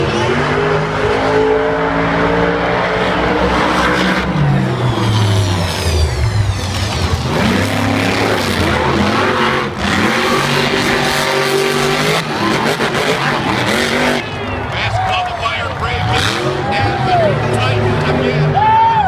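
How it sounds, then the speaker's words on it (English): Monster Jam trucks during practice runs at the World Finals in Las Vegas: loud engines rev and roar up and down repeatedly, with whining pitch sweeps and tire noise, over crowd babble and people talking. "these are practice runs for the trucks"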